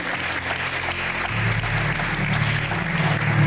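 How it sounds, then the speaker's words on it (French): Church congregation applauding during a bilingual service, clapping swelling from a scattered start into sustained, loud applause over a low sustained organ or keyboard tone. "Can we put our hands together for Jesus?"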